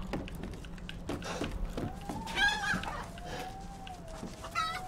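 Chickens clucking in the video game Resident Evil Village, scattered soft clucks and squawks over a low ambient hum, with a faint rising tone in the background.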